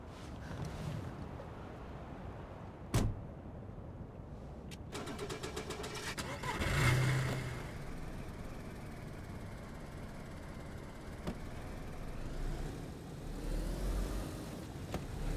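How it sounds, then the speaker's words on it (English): A car engine in the video game DayZ starts and idles at a low level, a soft mechanical rumble with a sharp click and a brief surge partway through, over faint background noise. "all the cars in the game used this audio sound before they changed it"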